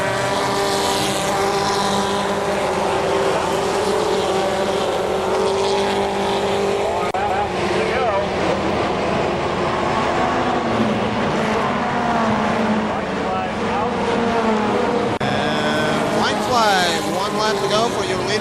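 Race trucks roar around KilKare Speedway in the closing laps, engines loud and droning as they pass, with an announcer calling the race over the noise throughout.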